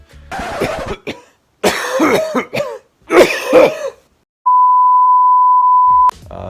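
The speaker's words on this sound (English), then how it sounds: "I keep coughing in the middle of it" Several harsh coughs and throat clearing come in bursts close up, followed by a steady electronic beep tone and a brief sound afterward.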